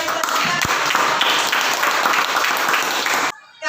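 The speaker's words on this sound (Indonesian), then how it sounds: "kita beri tepuk tangan" Applause in a junior high school classroom in Indonesia, a steady dense clapping from the students that fills about three seconds and then stops abruptly, with a faint voice at the end.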